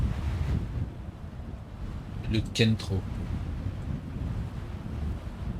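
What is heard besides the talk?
wind blowing in the ARK video game map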